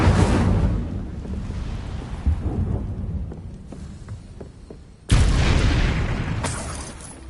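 A fire spell cast in the Hogwarts Legacy video game gives a loud booming burst at the start that rumbles down, and a second sharp, loud blast of flame erupts near the end, with no talking.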